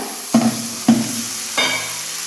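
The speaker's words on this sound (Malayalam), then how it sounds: "ഇനി നമുക്ക് ഈ വഴുതനങ്ങ ഇതിലേക്ക് ചേർത്ത് കൊടുക്കാം" Eggplant split into quarters dropped into hot masala for a Kerala-style roasted coconut curry, two sharp sizzling bursts followed by a third softer hiss over steady frying noise.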